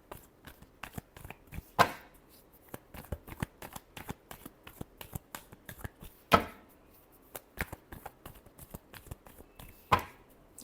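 Tarot cards are shuffled by hand, giving a dense patter of soft slaps and riffles with three sharper snapping bursts spaced a few seconds apart, close up and fairly quiet, with no voices.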